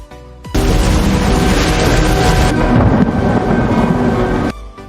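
A big storm in a film rumbles as a loud, dense wash of thunder and rain that bursts in abruptly and holds steady for several seconds before cutting off.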